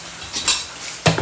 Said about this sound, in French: Je vais chercher un couvercle là.